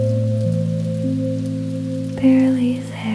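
Steady soft rain falls on surfaces on a quiet Tokyo night, a gentle continuous hiss under low sustained tones, with no break for the whole stretch.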